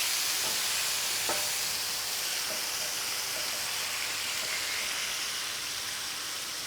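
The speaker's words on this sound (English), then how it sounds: "All we want to do right now is get a good sear on these." New York strip steaks sear in a pan with a loud, steady hiss and crackle, a few faint taps of a utensil sounding through the continuous sizzle.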